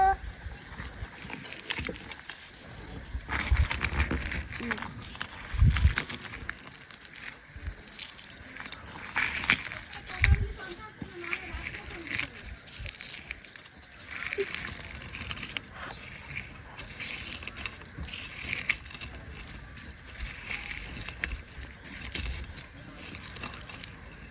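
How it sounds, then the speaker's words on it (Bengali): Fried dried chillies being crushed and rubbed by hand for a banana-tamarind mash, a close, continuous crackling and crunching rustle with soft pats, steady throughout. "আগে থেকে শুকনো মরিচ ভেজে রাখছিলাম, তো এবার ডলে নেব"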